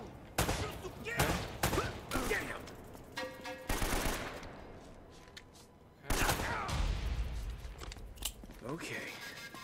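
Loud bursts of gunfire and automatic fusillades in the action video game Uncharted: Drake's Fortune (Remastered), with repeated broadband shots, a lull, then another heavy volley, with voices shouting in between.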